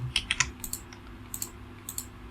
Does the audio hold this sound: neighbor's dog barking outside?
no